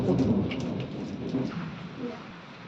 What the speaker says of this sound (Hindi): थोड़ी थोड़ी बूंदाबांदी होने लगी है और हल्के से बादल भी गरज रहे हैं।